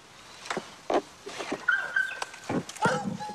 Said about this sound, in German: Das klingt wie ein Hund